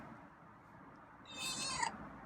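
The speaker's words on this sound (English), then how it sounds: "Oh wow, meow." A single drawn-out meow rises and falls over quiet room noise, close and fairly clear.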